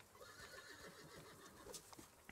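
A horse in a video game whinnies faintly amid a dense, steady game soundscape, with hoofbeats and other in-game noise mixed around it.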